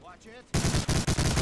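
Enemy gunfire in the World War II shooter Medal of Honor: Allied Assault, a loud rattling burst of rapid automatic shots that starts abruptly after a quieter moment and keeps up in a dense, stuttering string.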